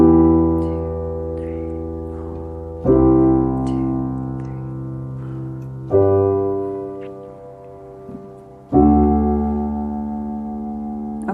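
Low piano chords from the verse of a song struck three times a few seconds apart, each left to ring and fade before the next, with no voices.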